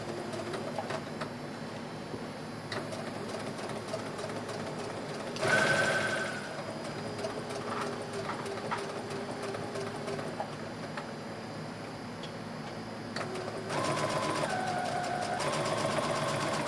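A sewing machine runs a straight seam on a dress, with a steady mechanical whir and rapid needle chatter that stops and restarts in bursts between quieter pauses.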